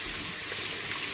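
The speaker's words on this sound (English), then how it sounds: "rinse it under the tap" Water runs steadily from a tap while a filter part from a fish tank is rinsed underneath, a continuous close hissing splash without any voices.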